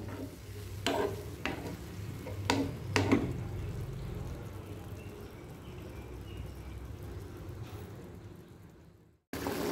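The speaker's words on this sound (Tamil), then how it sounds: "நல்லா கொதிச்சு வருது." Potato curry bubbles and simmers in a pot, a soft steady hiss with occasional louder clinks and stirring knocks near the start, fairly quiet throughout.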